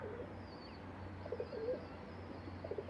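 Soft, low coos of high-flying pigeons under an aviary repeat faintly against a quiet background hum, with a few scattered chirps.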